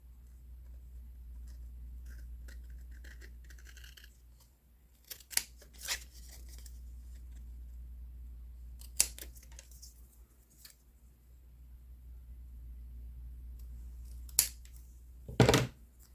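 Scissors snip during a wax seal craft project, giving a few quiet, separate cuts spread across a mostly hushed room with a faint low hum, the last snip sharper and closer.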